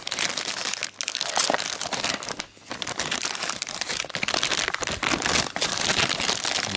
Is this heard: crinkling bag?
yes